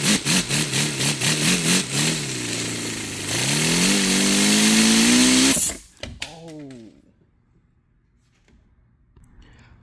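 A paper X engine driven by an air compressor revs in rapid pulsing bursts, then rises to a steady whining roar that climbs in pitch before abruptly cutting out, leaving quieter sputters and near silence.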